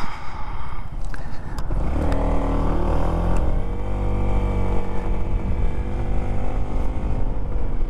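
A motorbike is ridden on the road, its engine loud and close. It revs up sharply around the two-second mark, then holds a steady droning pitch under constant wind rush.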